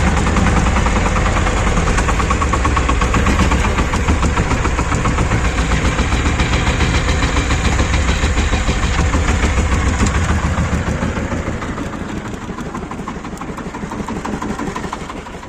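A Shifeng 240 tractor with a UAZ front drive axle plows heavy clay soil, its engine running loudly and steadily throughout, with a drop in level and load near the end.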